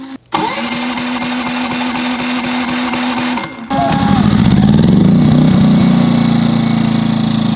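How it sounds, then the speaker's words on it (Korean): An EcoFlow LPG/gasoline smart generator, started remotely by app, cranks briefly, then catches and settles into a loud, steady mid-pitched engine drone close by. "어플을 이용해서 시동을 걸 때는 자기 혼자 짧은 시간 동안 낮은 데시벨로 두 번, 세 번 시도해서 켜졌어요"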